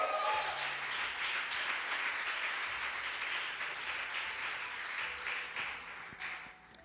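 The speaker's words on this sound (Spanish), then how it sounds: "Dale palmas al Señor" Church congregation applauding steadily throughout a Spanish-language sermon, a dense wash of clapping that holds at fairly even strength and thins slightly toward the end, with faint low tones underneath.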